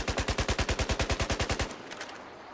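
Automatic rifle fire in Battlefield 4: a rapid, evenly spaced burst of about fifteen loud shots over a second and a half, then a brief fading tail with no talking.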